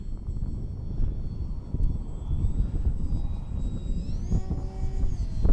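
A small H-King Bixler 3 model airplane's motor whines at high pitch over gusty wind rumble, its tone rising and shifting as it speeds up to full speed near the end.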